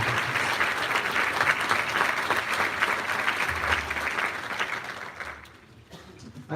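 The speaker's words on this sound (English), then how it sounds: "Let's give these outstanding students one more round of applause" A school audience gives award-winning underclassmen students at a high school awards night a loud, sustained round of applause, steady and full before thinning out toward the end.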